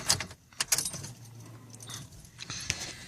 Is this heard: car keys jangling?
yes